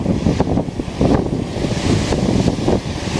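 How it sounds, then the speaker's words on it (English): Big waves on Lake Superior near Grand Marais, Michigan, rolling and breaking in a steady wash of surf, with heavy wind buffeting the microphone throughout. "Those waves are getting pretty big out there right now"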